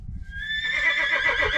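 A horse whinnies close by, a high wavering neigh rising out of low shuffling noise and continuing to the end.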